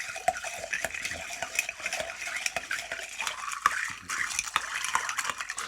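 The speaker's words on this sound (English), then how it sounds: "we're just going to give that kind of a little churn with your bar spoon" Crushed ice churned with a bar spoon in a coconut rum cocktail: a dense, steady run of icy clinks and metal-on-glass rattles, close and continuous, with no talking.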